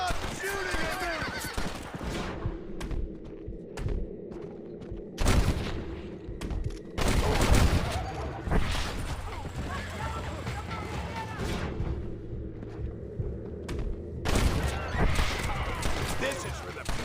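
Gunfire crackles in a Red Dead Redemption battle, with scattered shots and bursts of volleys amid horse whinnies and hoofbeats, while voices shout and talk over the fight.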